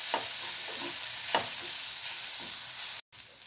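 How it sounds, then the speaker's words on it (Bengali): Fried bitter gourd being stirred into spices in a pan, with a steady soft sizzle and a few scraping strokes of a spatula, then a brief cut near the end. "এবার এর মধ্যে আমি ভেজে রাখা করলা দিয়ে দিলাম। ভেজে রাখা করলার সাথে মশলা বেশ ভালো করে মিশিয়ে নিতে হবে।"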